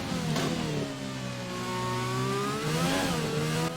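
An F1 2020 race car in wet weather, from the game, revs hard with wheel spin, its high engine note climbing and dipping as it accelerates, loud and close with no talking.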